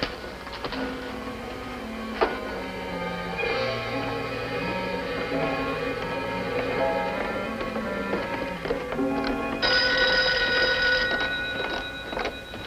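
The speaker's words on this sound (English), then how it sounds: "I'll answer the phone." Telephone ringing as a radio drama sound effect, repeated electric bell bursts layered over a busy background with music-like tones; steady and fairly loud with no talk.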